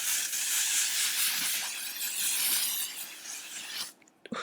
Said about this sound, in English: we're gonna go ahead and set the skin with the L'Oreal Infallible 3-second setting mist